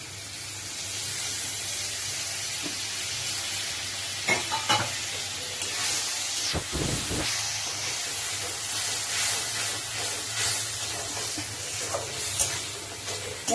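Spice paste with yogurt and sugar fries in oil for a katla fish kalia, a steady soft sizzle and hiss with occasional stirring scrapes and brief bursts, close and continuous with no talking.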